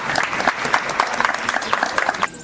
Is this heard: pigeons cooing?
no